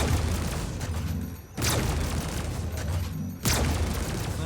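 Ship weapons in a space-combat video game, an Aegis Sabre fighter, fire a loud sustained barrage with two sharp booming bursts about two seconds apart, close and without talk.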